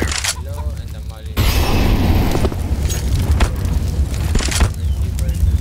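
A molotov ignites in CS:GO, a sudden whoosh that settles into a steady crackling, hissing burn, with sharp bangs and pops through it and someone talking over the top.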